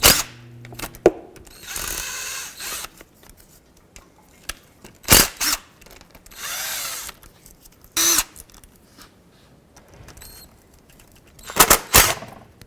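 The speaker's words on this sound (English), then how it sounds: "Now let's remove the rest of the bolts." Power tool, likely an impact gun, whirring in several separate bursts as it removes the transmission oil pan bolts on a 2006-2011 Chevrolet HHR, loud and close, with quiet gaps and a sharp clank between the runs.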